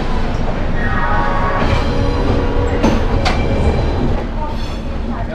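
A Rajdhani Express bound for Delhi stands at a busy railway station, heard as a steady, loud rail rumble with faint metallic squeals and a couple of sharp clanks over general platform bustle.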